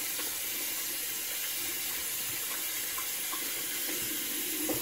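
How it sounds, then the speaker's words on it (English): Tap water runs steadily while a face painting brush is rinsed under it, a continuous soft hiss and splash at moderate distance with no talking. "Let me rinse the brush out real quick"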